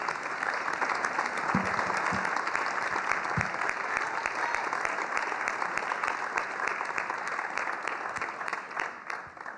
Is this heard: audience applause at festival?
yes